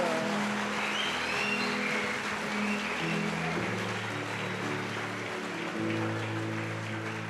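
Sustained applause from a church congregation during a service, dense steady clapping throughout with a held musical tone and shifting chords underneath.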